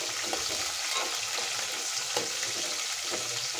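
Onions and garlic frying in hot oil for Andhra bendakaya pulusu, an even, dense sizzling hiss with faint stirring crackles, close and steady throughout.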